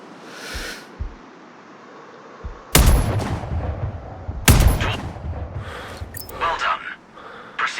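Two loud sniper rifle shots from the video game Sniper Ghost Warrior Contracts, fired at a target about two seconds apart, each a sharp crack with a rolling echo, followed by faint clicks and rustles.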